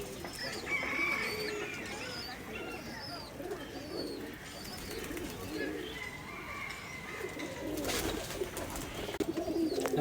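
A pair of pigeons, a Pakistani KTM male and a golden female, coo repeatedly at close range against a busy background with steady noise and a brief rustling burst.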